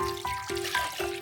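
Water poured into a container for a Korean onion pickle brine, a steady trickle running through the clip with three brief splashy pulses, fairly close and moderately quiet.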